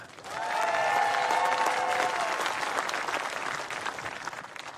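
Crowd at the 2016 World Bowls Championships men's singles final applauding the Canadian finalist's introduction, a full, sustained wash of clapping with cheering and a few whistles rising early, then gradually easing off.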